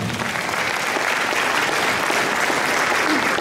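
A crowd at a municipal 40th-anniversary jubilee gives loud, sustained applause as honorary titles are awarded, a thick and even roar of many hands clapping together, close and without talk.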